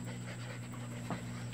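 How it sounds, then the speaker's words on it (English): Rapid, steady panting from an Airedale Terrier puppy, close and continuous for the whole stretch, with a faint high whine near the end and a constant electrical hum underneath. "Hi there, big dog."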